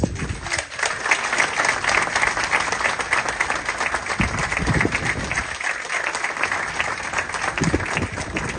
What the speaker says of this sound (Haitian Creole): Je vais vous demander d'applaudir avec moi encore une fois